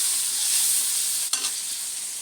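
A vegetable curry sizzles steadily in a pan in a home kitchen, with a constant bright hiss and one brief stir or clatter partway through; no one speaks.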